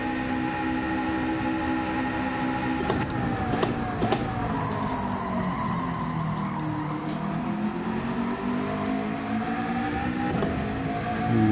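A car engine droning steadily in a racing video game, revs rising and falling through gear shifts with brief tire squeal, constant and close with no talking.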